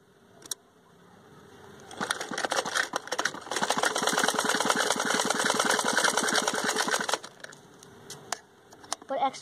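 A sewing machine stitches two joined bias strips of cloth corner to corner, running in a steady rapid mechanical rattle for about five seconds, with brief clicks before and after.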